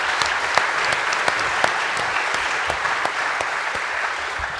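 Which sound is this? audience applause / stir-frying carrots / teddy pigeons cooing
audience applause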